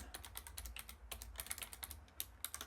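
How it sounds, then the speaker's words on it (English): Rapid, uneven keystrokes on a computer keyboard entering a formula into a graphing calculator, close and fairly quiet, with no talking. "I am going to type in that normal distribution"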